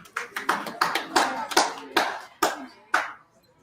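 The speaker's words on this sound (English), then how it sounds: "Some hand clapping in the background." A few curling fans clap their hands in the stands at a women's spiel in North Bay: about nine distinct, fairly close claps in a loose, slowing rhythm, each ringing briefly in the arena.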